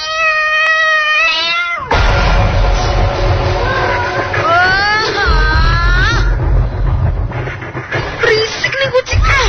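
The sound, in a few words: cat meowing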